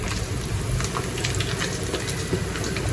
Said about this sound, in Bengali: ওই যে আমি ডিমটা দিয়ে দিছি কড়াইতে